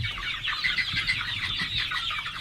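Chickens cluck and murmur softly together in a continuous, busy chatter, close by.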